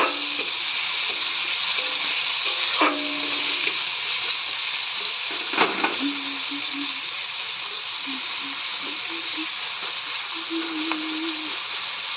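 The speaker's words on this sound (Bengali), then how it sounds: "সেই জন্য এরকম কম তেলেই যেরকম হয় সেরকম করব।" Onions frying in a little oil for birista, a steady bright sizzle with occasional stirring scrapes and faint clinks, close and continuous throughout, with no talking.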